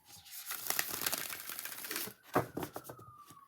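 A matte-finished deck of Medieval Feathers Tarot cards is riffle-shuffled up close, giving a dense fluttering rush of card edges, a brief pause, then a second shorter burst and a soft bridge patter.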